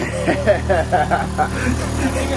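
An old car's engine idles steadily just after a long crank on the starter, with a low, even rumble running underneath while people talk close by.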